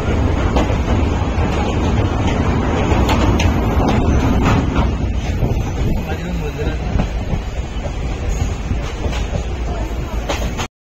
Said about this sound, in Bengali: আর ট্রেন ছেড়েও দিয়েছে